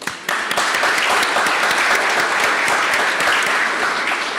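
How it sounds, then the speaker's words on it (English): Applause breaks out suddenly and holds steady as an audience at a media freedom panel event claps for the panelists, dense and continuous with no talking on top. "Let's give them a round of applause."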